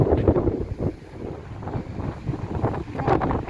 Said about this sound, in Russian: Но ветер сегодня сильнющий.